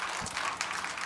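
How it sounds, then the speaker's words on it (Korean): Congregation applauding during a Sunday worship service at a Korean church, a brief dense wash of steady clapping at moderate volume with no distinct voices over it. "전능히 하나님께 영광이 박수 올립시다."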